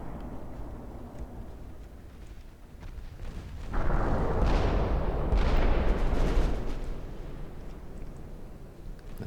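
Naval artillery gunfire in the warship battle game Ultimate Admiral Dreadnoughts: a low, rumbling volley of heavy cannon blasts that swells loudly midway and rolls on for several seconds before fading back into a steady battle drone.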